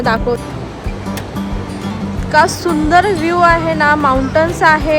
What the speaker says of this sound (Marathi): नदी व्यास नदी आणि खळखळता पाणी अगदी पाण्याचा साऊंडसुद्धा इथपर्यंत ऐकू येतो